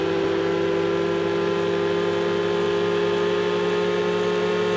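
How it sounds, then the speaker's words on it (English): A race car engine drones steadily close behind in Project Cars 2 online at Monza, a continuous loud hum with no break and no talk. "Car behind me is right behind me. I can hear his engine."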